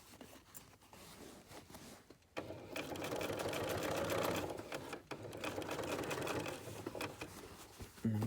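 A sewing machine runs in sustained bursts while stitching a bustier foundation, its rapid needle chatter loud and close with brief pauses between runs.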